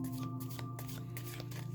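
A tarot deck is riffled and shuffled close by, a soft rapid fluttering over a steady low hum.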